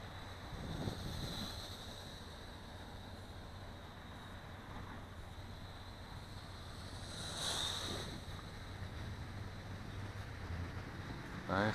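Outdoor breeze gusting across a microphone while a toy quadcopter flies, a steady rushing wind noise with a faint motor whine and a stronger gust swelling midway.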